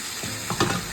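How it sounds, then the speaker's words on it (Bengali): Foli fish marinated in oil frying in a pan, a steady close sizzle with a few brief stirring or scraping bursts near the middle, no voices. "এটা এখন ভাজবো। আর এখন ভাজা হবে, এই যে দেখো, এটা হচ্ছে ফলি মাছ।"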